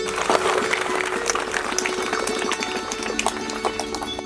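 Schoolchildren clap to welcome a new science teacher, a dense patter of many small hands in a room that stays steady and fairly loud throughout.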